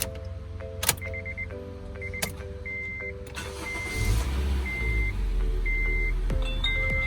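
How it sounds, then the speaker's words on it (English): A car's engine starts after a 12V battery replacement, its low rumble catching about midway and running steadily to the end, preceded by a series of short, evenly spaced electronic chime beeps. "Start the car engine."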